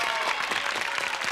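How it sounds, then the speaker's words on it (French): A TV show studio audience on Surprise Sur Prise breaks into loud, continuous applause, a dense crowd of clapping hands filling the short moment. "Alors je vous demande d'applaudir encore très fort Monsieur Marcel Béliveau"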